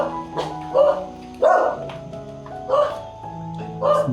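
A dog barks repeatedly at close range, sharp loud yaps coming in bursts about once a second, with a faint voice in the background.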